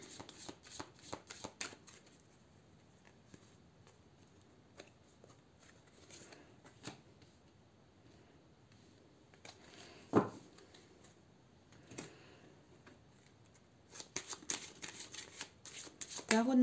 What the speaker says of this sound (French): C'est un petit peu long, je sais bien, la préparation des cartes